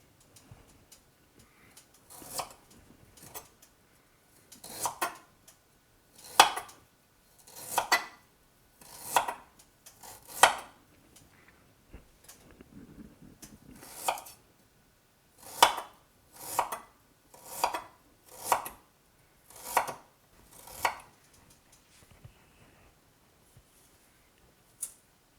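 Knife thinly slicing fresh ginger on a cutting board for strawberry ginger wine, a series of crisp, evenly spaced chops, close and fairly loud, with brief pauses between runs of cuts.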